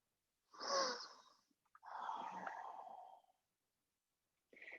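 Slow nasal breaths during a gentle yoga flow with alternate-nostril breathing: two long, airy inhale-exhale passes close to the microphone, then the start of a third, with quiet pauses between.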